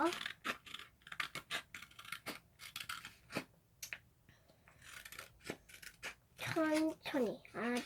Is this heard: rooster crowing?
no